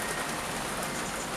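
Steady rain falling outdoors on an Irish day, a dense even patter of drops filling the whole stretch at constant loudness with no voices.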